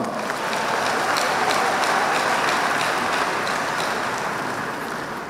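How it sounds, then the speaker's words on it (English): A large congregation claps together at the opening of the newly built All Saints Cathedral in Nakasero, a loud, dense, continuous wash of hands that stays steady throughout, with no talking over it. "If it's a good thing, clap."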